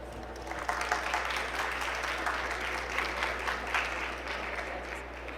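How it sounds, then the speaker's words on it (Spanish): An audience gives sustained, even applause to welcome Dr. Natalia to a nursing research talk, a dense wash of clapping from a sizable crowd heard at moderate distance over a low steady hum. "Solicito que por favor recibamos con fuertes aplausos a la doctora Natalia."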